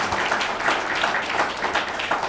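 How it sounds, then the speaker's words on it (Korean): Applause from an audience at a church gathering launching a Christian group: a brief, even burst of many hands clapping at moderate level, with no voices on top. "오늘 5분 예정인데 우리 뜨거운 박수로 감사를"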